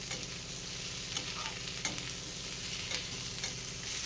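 Green, yellow and red capsicum and paneer stir-fry together in a pan for paneer chilli, making a continuous even sizzle broken by occasional light scrapes of the spoon, with no voices.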